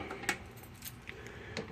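A key works the lock on a Harbor Freight toolbox, giving brief metallic jingles and clicks in a few short bursts, close and fairly quiet.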